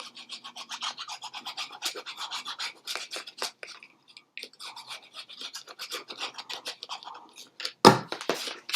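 Folded paper for a mini album is burnished in rapid repeated rubbing strokes, a dry rasping scrape close up with a short pause midway and a louder swipe near the end.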